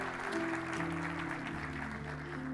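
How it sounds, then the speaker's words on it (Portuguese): A church congregation applauds with soft, continuous clapping while sustained organ or keyboard chords play underneath, quiet and blended together. "Pode aplaudir ao Senhor."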